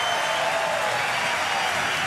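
New Zealand supporters, a small group of parents and friends, cheer and applaud at an under-20 rugby semi-final against England, a steady broadband roar of clapping and crowd noise lasting the whole moment without pause.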